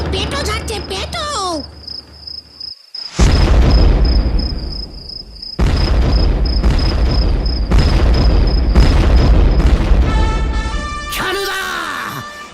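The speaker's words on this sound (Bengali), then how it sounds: "ওগো বোমা পড়ছে" Bombs going off in a Bengali comedy cartoon: repeated deep booming blasts separated by brief gaps, with a steady high whine and whooshing, swooping effects near the end.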